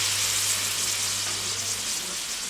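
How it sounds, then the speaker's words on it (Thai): Catfish and fresh chili stir-frying in a hot pan for a spicy stir-fry, giving a steady, close, unbroken hiss of sizzling oil with no talking. "ผัดปลาและพริกให้เข้ากันครับ"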